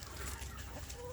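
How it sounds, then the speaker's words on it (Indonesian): A group of Indonesian village chickens, one senior rooster with hens, clucking softly in a continuous murmur under a low background rumble, heard briefly and at moderate distance. "Mereka ada dalam satu kelompok ayam kampung yang terdiri atas 1 jago yang paling senior ya, 1 jago yang paling besar"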